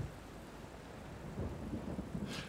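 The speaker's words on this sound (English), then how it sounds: "I just look at the water, the rain hitting the water." Rain falls on water in the video game Kingdom, a steady dense hiss of drops with a low rumbling undertone, soft and continuous with no voices.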